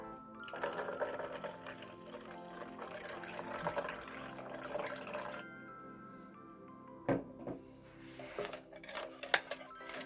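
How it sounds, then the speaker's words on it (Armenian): Water poured into a puff pastry dough mixture in a home kitchen, a soft splashing and trickling with faint drips and light clinks of a container, fairly quiet and close. "եւ կավելացնեմ ջուրը։"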